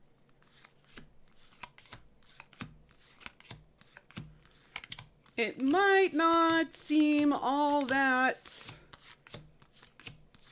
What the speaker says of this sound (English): I'm going to go ahead and show you how I shuffle my decks